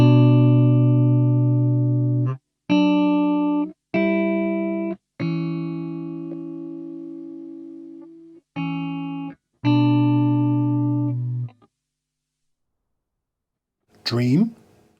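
Dry, clean electric guitar notes and chords, played one at a time with short gaps between them, each ringing briefly and then cut off, close and clear with no effects added.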